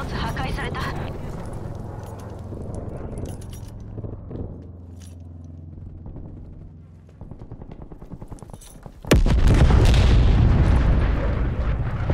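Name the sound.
artillery strike in Call of Duty: Black Ops Cold War video game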